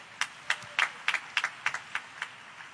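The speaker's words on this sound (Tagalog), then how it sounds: "Malakas sa palakpak sa ating mahal na Panginoon." Scattered claps from a church congregation at a Sunday general worship service, about a dozen separate sharp hand claps spread unevenly over a few seconds, fairly close and moderately loud with no talking.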